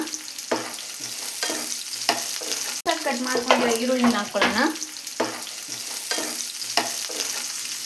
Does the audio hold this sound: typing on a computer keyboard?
no